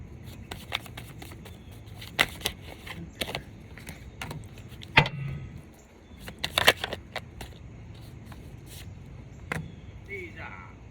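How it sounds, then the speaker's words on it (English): Tarot cards being shuffled by hand, a run of crisp riffling flicks and soft slaps close to the microphone, with brief pauses and a quiet moment near the middle. "I'm just going to shuffle one more time"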